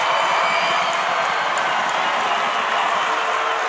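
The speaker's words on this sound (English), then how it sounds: "And the Benton crowd erupts." A basketball crowd at a high school boys quarterfinal game in a gym roars, cheering and applauding in a steady, loud, continuous wash of voices and claps.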